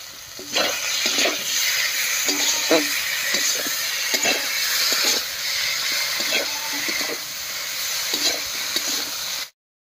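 Spice paste of dried red chili, cumin, coriander and ginger frying in oil while being stirred, loud sizzling hiss broken by repeated scraping strokes of a spoon against the pan, close up, ending abruptly.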